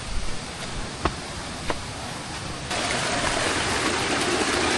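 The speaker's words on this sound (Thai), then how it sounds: "นี่คือน้ำตกชั้นที่สาม" The third tier of Pala-U waterfall roars as a constant broadband wash of falling water, growing louder partway through as if the listener steps closer, with a few faint knocks and no talk.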